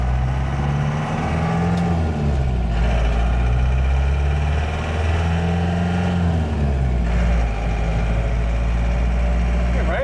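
A Ford F350 Bullnose truck engine accelerates on a test drive, a deep loud drone that climbs and falls through the gears in long sweeps. People talk over the steady engine noise.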